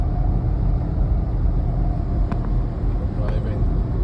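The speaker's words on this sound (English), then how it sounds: "driving with the trailer on, heading back home" Steady road drone of a car towing a trailer on the drive home after collecting a 1928 chassis, a constant low rumble with a couple of faint clanks and a voice talking over it.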